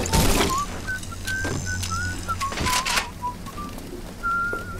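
A game character in Bioshock whistles a wandering tune in short rising and falling phrases, fairly close, over low ambient hum with a few dull thuds, no talk.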